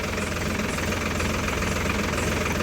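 A tractor carrying fertilizer for field spreading runs with a steady, dense engine drone and rattling vibration, close and continuous with no pauses.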